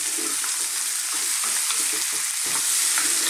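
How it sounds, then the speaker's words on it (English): Beef stir-fries in a pan on high heat, giving a loud, constant hiss and sizzle with soft scraping and stirring strokes underneath, close by and without talk. "We're now going to stir fry this."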